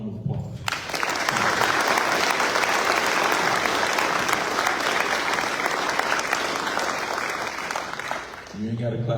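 Applause at a US Navy retirement ceremony for a Senior Chief Petty Officer, a dense sustained burst of clapping from the audience, bracketed by brief talk at the start and end.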